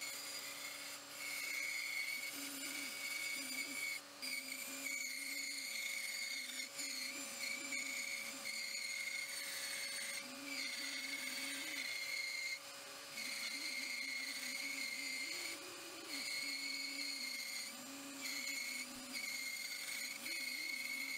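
A bandsaw hums steadily while cutting wood along marked lines, the continuous motor whine rising and falling with the rasp of the blade through the board, heard close and fairly even for the whole stretch without talk.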